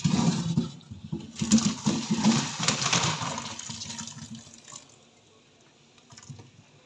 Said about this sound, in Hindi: आप सुराखों वाले बर्तन में इसको छान लें।